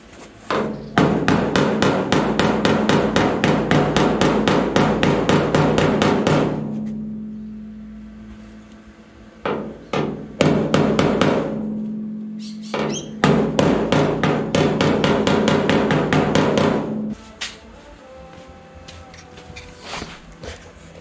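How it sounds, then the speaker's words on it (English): Repeated hammer blows tapping out a mount hole on a Volkswagen Beetle quarter panel in a shed, coming in fast loud bursts of metallic strikes, with a pause and a few isolated taps between the two long runs. "So get a hammer and see if we can tap that out."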